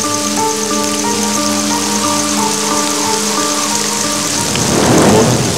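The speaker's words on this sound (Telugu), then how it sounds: "ఇక్కడ ఎక్కువగా వర్షం పడుతూ ఉంటుంది" Steady heavy rain with rolling thunder, loud and continuous throughout, the downpour swelling near the end, with no voices.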